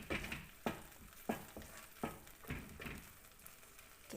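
Tomato and egg being stirred in a frying pan for a Taiwanese stir-fry, with rhythmic scraping strokes roughly every half second over a soft sizzle, fairly quiet and with no talking.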